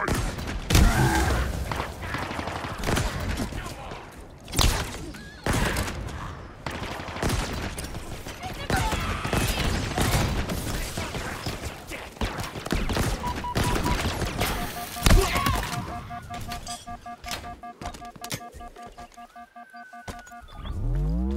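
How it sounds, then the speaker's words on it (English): Dense bursts of gunfire from a Halo Infinite campaign battle, rapid automatic volleys and single loud shots repeating throughout, close and heavy, with a faint electronic tone sequence near the end and occasional voice underneath. "Who else is shooting me?"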